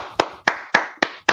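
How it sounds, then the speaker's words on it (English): Five sharp, evenly spaced hand claps about a quarter second apart, close and crisp with short decays, from a casual podcast-style conversation setting. "give OGK a round of applause. Yo, clap"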